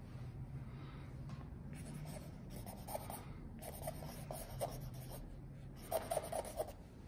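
A pen drags ink across paper in soft, scratchy strokes, quiet and close, coming in short clustered bursts separated by brief pauses.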